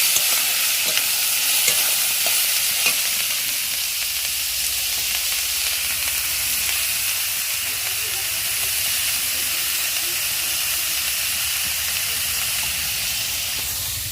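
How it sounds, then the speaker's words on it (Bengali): Onions fry in a pan with a steady, loud sizzle and hiss that runs throughout, with occasional stirring scrapes. "এই যে পেঁয়াজটা এখানে ভাজা করতে দেখো, পেঁয়াজটা সুন্দর করে ভেজে নিই"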